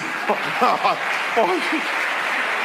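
A church congregation applauds in a dense, steady wash of clapping while a few voices call out briefly over it.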